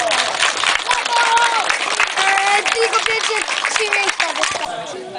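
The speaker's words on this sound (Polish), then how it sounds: "Proszę o gromkie brawa" Applause and cheering for the prize-winning teams at a tournament closing ceremony, dense and steady throughout with voices and whistles mixed in.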